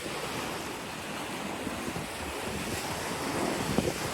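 Sea waves wash up on the sand at Corito Bay Beach, a continuous close rushing surge mixed with strong wind buffeting the microphone.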